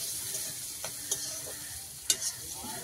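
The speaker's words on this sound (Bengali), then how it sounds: "কড়াইতে দিয়ে দিয়েছি মাছ ভাজা তেলে পেঁয়াজ, কাঁচা লঙ্কা।" Onions and green chillies sizzle and crackle in hot oil in a wok used for frying fish, with a steady hiss and a few sharp stirring clatters, close and unaccompanied by speech.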